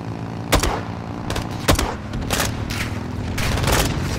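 Call of Duty Modern Warfare 2 campaign firefight: several sharp, loud gunshots and short bursts spaced through a dense battle din, close and punchy, with no talk over them.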